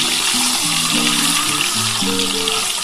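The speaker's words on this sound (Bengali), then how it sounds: "আমি একটু হালকা করে ভেজে তুলে নিচ্ছি" Eggs rubbed with salt and turmeric fry lightly in hot oil with a loud, steady sizzle that runs unbroken throughout, while a melodic tune plays underneath.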